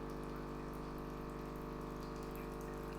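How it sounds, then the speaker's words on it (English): Lavazza A Modo Mio Voicy coffee pod machine pumping descaling water, a steady, close humming pump with continuous streaming flow, even and unbroken. "it's going to stream and then pause, stream, pause, until all of that water has disappeared"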